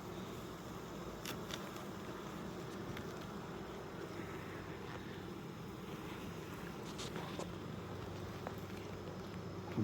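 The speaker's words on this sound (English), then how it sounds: "These bees are getting a little bit funny at the entrance over here." Honey bees buzz around the entrance of a hive on a June day, a faint steady drone that stays continuous and low in level throughout, with no talking.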